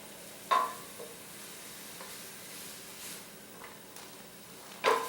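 Oyster mushroom sauce simmering in a pan gives a steady soft sizzle, broken by a few distinct clacks and scrapes of a utensil stirring, near and alone without speech.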